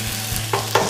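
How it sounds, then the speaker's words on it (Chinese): Crucian carp fries in oil in a pan with ginger slices and chopped scallion, giving a brief close sizzle with a couple of sharp scraping or stirring bursts. "把我们的杀好的鲫鱼啊放里边一起煎"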